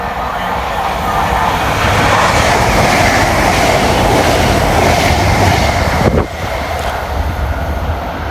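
A train passes at speed on the Great Eastern Main Line in England, a loud, close, continuous roar and rumble of wheels on rail that dips briefly near the end.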